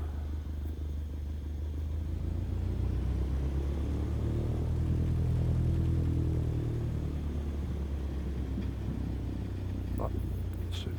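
A Cessna 152 in Microsoft Flight Simulator taxis on the ground, its engine a steady low rumble that swells gently in the middle before easing back, with no talk over it.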